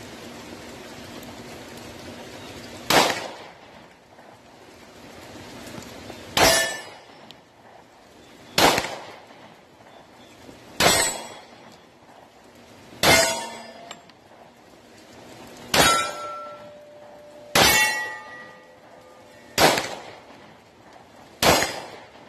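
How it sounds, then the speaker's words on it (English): Smith & Wesson M&P 40 pistol firing Federal 180 grain full metal jacket rounds, eight sharp separate shots spaced a few seconds apart at an outdoor range, each with a quick ringing tail, loud against a quiet background. "we are shooting Federal 180 grain full metal jacket out of the bolt pack"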